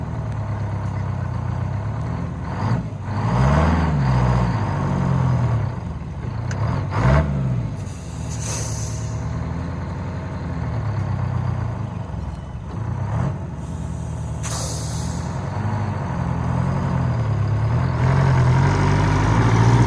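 A 1979 Western Star truck with a Detroit 8V71 diesel labors loudly to climb out of a hole, its engine droning and revving with two sharp air-brake hisses. No voices.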